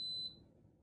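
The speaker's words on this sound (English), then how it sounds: "you just leave it until it gives you the beep telling you that it acknowledges." A single short electronic beep from an Instant Pot pressure cooker acknowledging its settings, a clear high tone at the start fading quickly into quiet room noise.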